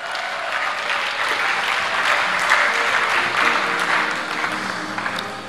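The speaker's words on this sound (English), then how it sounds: "Can we give them a big round of applause?" Sustained, loud audience applause fills a hall at an Africa Day lecture featuring Thabo Mbeki, dense clapping that holds steady throughout.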